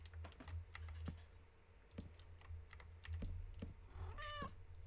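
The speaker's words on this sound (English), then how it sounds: "The cat wants to say hi to you guys" A pet cat named Cave gives one short, clear meow near the end, over soft, steady computer keyboard typing and clicking that runs throughout.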